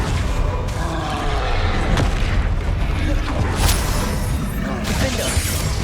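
Bombarda blasting spell cast in the Hogwarts Legacy video game, a dense booming explosion with crackling, shattering debris over continuous loud combat noise, with a voice speaking over it.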